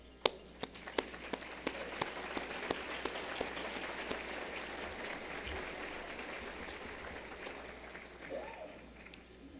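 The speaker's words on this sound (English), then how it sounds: "if all the staff and board members would take a stand just for a few moments and be celebrated with an applause" A modest audience at a civic luncheon forum applauds staff and board members, with scattered crisp individual claps leading into soft, distant crowd applause in a large room.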